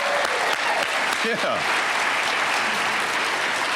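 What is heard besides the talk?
graduates applauding at commencement ceremony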